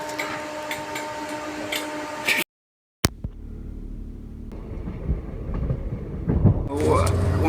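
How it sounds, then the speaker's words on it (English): A train passes near a cycling route in the Manifold Valley, with a droning hum and rumble, a brief cut-out, then a swelling rush of rolling noise. "Is that our train there?"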